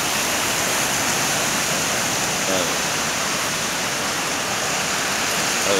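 Heavy floodwater rushes continuously through a flooded city street after downpour, a dense, steady roar with no breaks; a vehicle passes briefly midway.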